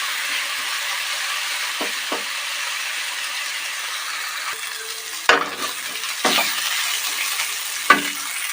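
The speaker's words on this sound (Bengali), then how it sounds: "আমরা আলুগুলো ভালো করে ভেজে নেব।" Potatoes frying in a pan make a steady, moderate hiss of oil, with a few soft stirring scrapes and one or two louder knocks of a utensil against the pan.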